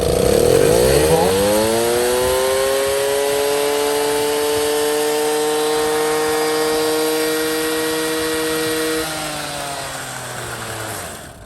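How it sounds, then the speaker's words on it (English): A 70-year-old French VAP ABG moped's small engine revs high and holds a strong, steady buzzing whine close up, then eases off near the end. "70-year-old moped, put some fresh gas in it, blew out the main jet, fired right up"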